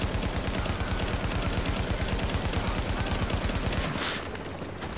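Rapid automatic gunfire in the video game The Division, a dense continuous burst of shots that runs loud for about four seconds before cutting off to quieter game ambience.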